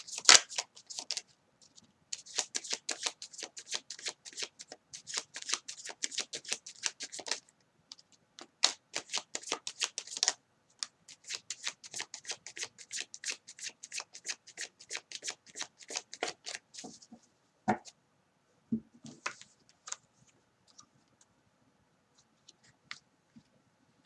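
Tarot cards riffle-shuffled close by for a reading, coming in long crisp bursts of rapid flutter for about seventeen seconds, then thinning into a few sparse taps and slides of cards, with no talking.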